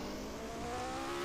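A Brabham Formula One car from 1976 spins off the track at Monza, its loud, steady engine roar and tyre noise filling a brief, continuous burst with no voices.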